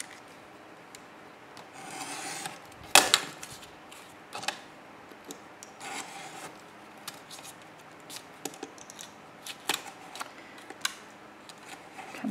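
A blade slices through paper in a grunge-style everyday journal, with one sharp cutting stroke among soft, intermittent rubbing, scraping and tapping sounds of close handwork, with no talk.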